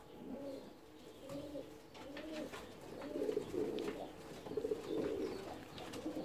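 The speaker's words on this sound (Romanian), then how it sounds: "porumbei." Fancy ornamental pigeons in an aviary coo repeatedly in soft rolling phrases, several birds overlapping at close range with faint chirps and rustling in the background.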